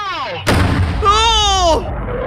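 A bomb set off by a pyrotechnics team bursts loudly and suddenly, a sharp broadband blast followed by sustained roaring and crackling, with voices shouting around it.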